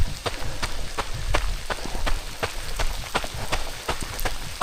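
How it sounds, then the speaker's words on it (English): Rain falling steadily on a hike between Gap Creek Reserve and Enoggera Reservoir: a dense hiss of drops with frequent sharp, close patters striking nearby surfaces. "And the rain is picking up"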